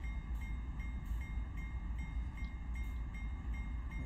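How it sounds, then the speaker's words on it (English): Simulated train in Train Sim World 2020 braking toward a stop, a steady low rumble of rolling stock with faint clicks and hiss throughout, no voices. "Now bring the train to a stop."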